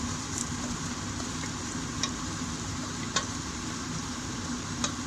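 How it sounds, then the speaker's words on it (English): A vegetable moussaka mixture seasoned with oregano and basil is stirred in a pan, giving a steady low sizzling bed with a few faint clicks of the utensil against the pan, alone without talk. "Now it's time to give it a stir."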